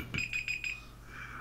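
An alarm going off during a Minecraft Crystal Dome match: a rapid series of four or five high electronic beeps, fairly quiet, followed by a faint fading tone.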